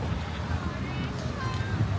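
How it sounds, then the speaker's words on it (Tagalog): Strong wind blows in an open city park in Sapporo, a loud, steady roaring buffet across the microphone that lasts the whole moment, with a voice faintly underneath. "Ang lakas ng hangin."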